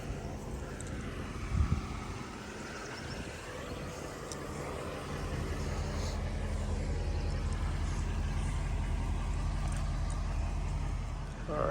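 A 2008 Mercedes SL550 with a coilover conversion is driven up, its engine a low, broad rumble that rises and holds steady as the car moves closer, with faint background noise.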